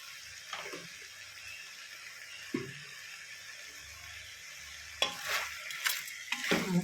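Ingredients for mutton kulambu are stirred and fried in a pan: a soft, steady sizzle runs throughout, with scraping stir strokes that grow louder and more frequent toward the end. No voices are heard.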